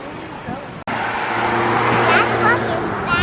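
A truck drives past close by, its engine rumble swelling into a loud, rising roar that fills the street after a brief sharp knock, with people talking over it.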